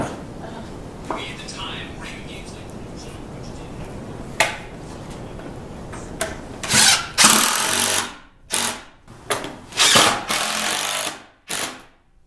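A power drill drives screws into a wooden cross cut sled in a workshop, several short bursts of whirring and clicking near the end after quieter shuffling and a single knock, with faint talk earlier.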